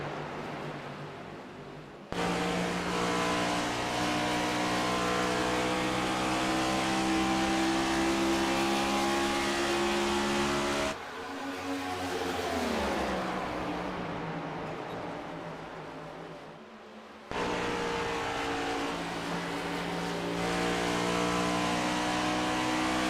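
Race cars roar down the straightaways at Homestead in an iRacing simulation, engines holding a steady high drone in fourth gear, briefly dipping and swelling around 11–17 seconds as cars pass, then resuming loud and continuous.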